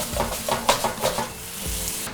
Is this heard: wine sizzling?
yes